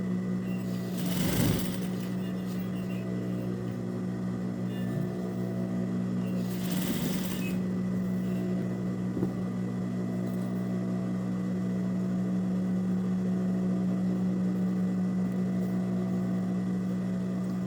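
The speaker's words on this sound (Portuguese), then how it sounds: "eu simplesmente vou levantar o pedal da máquina e girar para fazer uma bainha com direção à barra" A sewing machine stitches a hem on children's winter pajama trousers, running as a steady, continuous mechanical hum with a low motor drone throughout, plus two brief louder bursts near the start.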